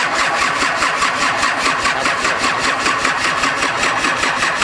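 A turbocharged Nissan Patrol TD42 diesel engine on its first run, idling with a loud, even, rhythmic clatter that stays steady throughout with no talk over it.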